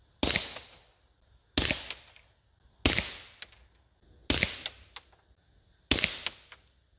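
A Ruger Mark IV 22/45 pistol firing CCI Subsonic 40-grain hollow point .22 rounds outdoors: five sharp, evenly spaced cracks about 1.4 seconds apart, each trailing into a short ringing decay.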